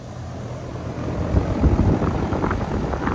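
A four-year-old HVAC unit that has just kicked on runs with a steady broadband whoosh of blowing air and a low rumble, loud and close, with no talk.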